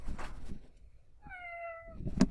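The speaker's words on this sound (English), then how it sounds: "when I click on my cat, I should hear a meow sound" A cat meow sound effect plays from an app, one clear drawn-out meow in a quiet stretch, with faint talk before and after it.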